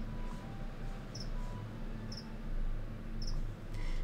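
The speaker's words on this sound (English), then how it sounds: "There's at least one in there that's a little big, and that's the one that's chirping." Crickets kept as pet food chirp indoors, short high trills repeating about once a second, fairly faint over a steady low room hum.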